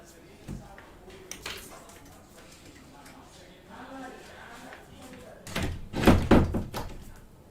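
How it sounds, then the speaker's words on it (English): Door being closed indoors, with a soft knock early on and a louder cluster of thuds and latch rattles near the end, while a person talks quietly in between. "Let me close the door."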